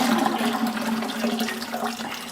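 Cold water gushes loudly into a vessel holding cooked codfish in a Caribbean kitchen, a continuous splashing pour close by, with a hollow resonant tone under the rush.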